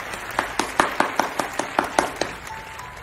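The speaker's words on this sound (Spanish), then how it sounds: "Brindemos un fuerte aplauso a nuestros estudiantes" Clapping for students receiving awards at a school closing ceremony, an evenly paced run of distinct claps at a brisk steady rhythm that stops, leaving a faint tone.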